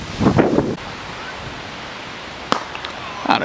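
Strong wind at a cricket ground blows across the microphone in a loud, continuous rumbling buffet, with a few brief gusty bursts and knocks on top.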